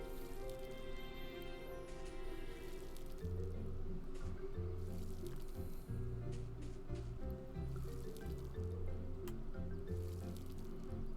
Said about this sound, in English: Okay, so we're gonna water the plants.